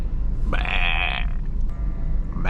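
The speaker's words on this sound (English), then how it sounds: "I can hear the sheep." A single sheep bleats once, clear and moderately close, over the steady low rumble of a BMW 1 Series interior while driving through the Yorkshire Dales.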